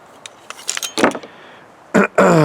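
A bunch of keys on a keychain with a small blade attached jangles close by in scattered metallic clinks and rattles, then two louder bursts of jingling near the end.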